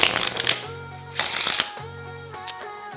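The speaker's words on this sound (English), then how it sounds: "So you have your riffle shuffle." Two rapid riffle shuffles of playing cards, each a dense fluttering burst of card flicks, up close with short pauses between.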